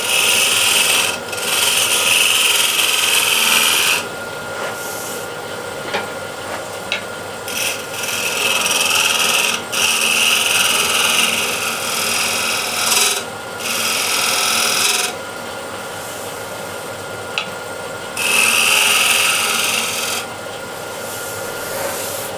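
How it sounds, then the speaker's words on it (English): A shear scraper works the inside of an 11-inch Osage orange wood bowl spinning on the lathe, giving a rasping scrape in repeated bursts of several seconds with short pauses between them. "I'll use it as a shear scraper. Just removing any lumps."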